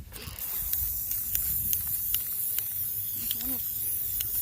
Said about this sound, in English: But right now, guys, let's add the clear coat.